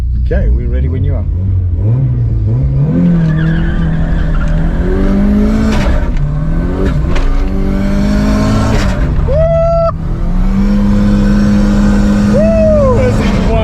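A 250 kW Mk1 Golf accelerates hard around a race track, its engine climbing and dropping through gears with loud, rough revving and tire squeal, heard from inside the car with voices over it.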